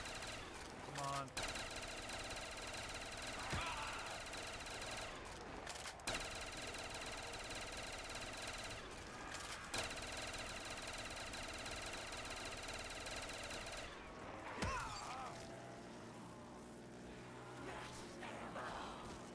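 The death machine in a GTA V zombies game mode fires rapid machine-gun bursts that run almost continuously under a player's excited commentary, with dense, chaotic gunfire filling the round.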